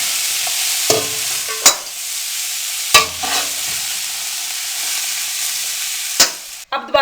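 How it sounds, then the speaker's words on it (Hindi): Cauliflower fries in a pot of oil for vegetable pulao, a steady close sizzle broken by several sharp clanks and scrapes of a spoon stirring against the pot. "गोभी को मैंने 3 से 4 मिनट के लिए हल्का सा फ्राई कर लिया है।"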